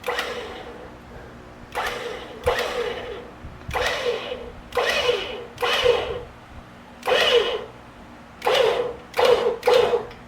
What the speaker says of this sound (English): Just going to do a tiny bit at a time because obviously this winch can pull a lot more than what this stuff is rated for.